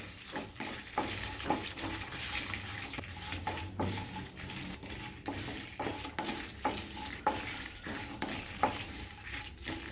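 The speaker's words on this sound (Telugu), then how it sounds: "ఎండుమిర్చీలు వేసుకోవాలి కొంచెం ఎర్రగా ఎంపుకోవాలి" Dried red chilies roast in a pan with a light dry sizzle as a spoon scrapes and taps steadily against the metal in an uneven rhythm.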